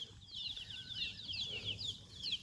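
Chickens in a Thai village yard give soft clucks and short calls amid faint rustling and possible wing flaps, steady and fairly quiet throughout.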